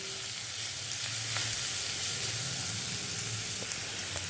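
Steady, close sizzling of chopped onions frying in hot oil, an even crackle with faint occasional ticks of stirring and no voices.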